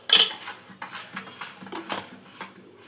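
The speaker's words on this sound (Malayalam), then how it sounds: "അത് കഴിഞ്ഞിട്ട് മൈദ ഇങ്ങനെ മിക്സ് ചെയ്യണം." Maida flour batter for pazhampori being stirred by hand in a bowl, giving a series of light clinking and scraping strokes, loudest at the start and then softer and irregular, with no one talking.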